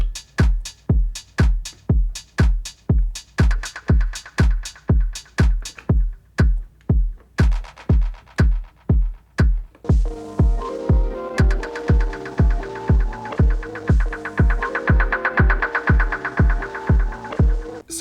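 An Elektron Digitakt drum machine plays a steady, regular pulsing kick-like pattern, dry at first and then joined by delay and reverb that add ringing tonal echoes and a denser wash through the second half, with no voices.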